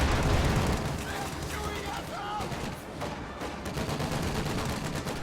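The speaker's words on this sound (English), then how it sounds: "wiped easily by the 50 cal upgrade on the Sherman, and riflemen supporting" Video game .50 cal machine gun on a Sherman tank firing in rapid bursts amid battle noise, with gunfire and explosions layered under continuous commentary.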